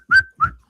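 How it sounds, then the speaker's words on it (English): A person whistles two short, clear notes in quick succession, close to the microphone, the first held slightly longer than the second, with nothing else heard around them. "I'm a terrible whistler"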